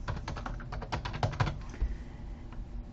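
Fingers tap rapidly on a computer keyboard in a school classroom setting, a dense, uneven clatter of close key presses running continuously for three seconds with no voices.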